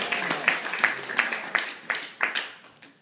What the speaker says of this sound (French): Donnons une bonne main d'acclamation au Seigneur Jésus-Christ.